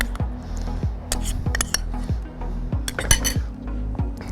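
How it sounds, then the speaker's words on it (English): Celery is mixed with mayonnaise in a bowl for lobster rolls, a utensil knocking and scraping against the bowl in repeated close clinks at a steady stirring rhythm, with soft wet squishing. "Mix the celery with some mayonnaise."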